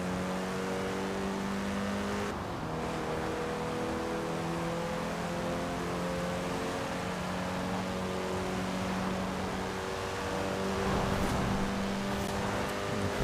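A car engine in the racing game Forza Horizon 4 drones and climbs through the revs in steady rising sweeps, dipping at a gear change before pulling higher again, loud and continuous with no speech.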